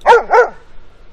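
A dog gives two quick, loud, close barks in succession, then quiet.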